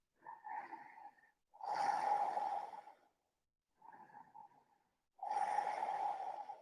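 Slow, deep breathing during a yoga stretch: two full cycles of a softer inhale followed by a longer, heavier exhale, close and quiet with silent gaps between breaths.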